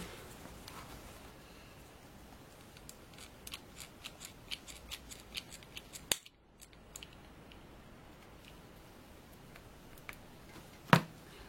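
Scissors cut off a thick piece while a Christmas place card is made from wooden rounds, a run of faint, close snips and clicks ending in one sharper cut.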